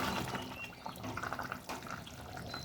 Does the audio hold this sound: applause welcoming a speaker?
no